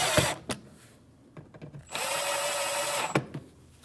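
A power drill drives Phillips screws into the mud flap of a 2012-2016 Honda CR-V, close by, in short whirring bursts with a longer sustained run, between clicks and handling knocks.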